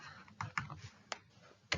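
Keys pressed on a calculator, five or six soft, quick clicks spaced irregularly across two seconds, faint and close with no talking.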